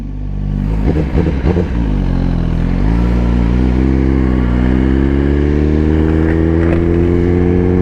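A Suzuki GSX-R1000 sport bike heading out to bike night rumbles loud and close, its engine note rising steadily as it accelerates, with a brief clatter early on.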